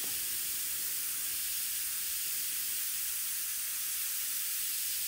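A soft, steady hiss of an airbrush spraying paint continuously, even in level throughout, with no talking.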